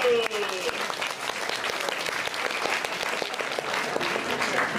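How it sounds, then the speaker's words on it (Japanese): Audience applause breaks out at the Turtle Talk show at Tokyo DisneySea, a steady, close wash of many clapping hands with some voices underneath. "みんな拍手だ"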